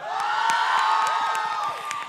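Studio audience at a live Khmer singing competition show cheering and whooping loudly over a sustained musical tone, a dense continuous crowd roar with no speech.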